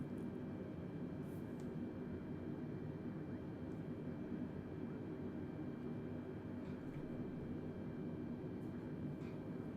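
An airliner's engines drone in a flight simulator on a Delta flight from Salt Lake City to Boise, a steady, even hum that holds at a constant level without pause.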